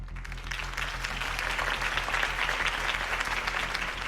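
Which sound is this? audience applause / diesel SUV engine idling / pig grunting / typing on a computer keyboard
audience applause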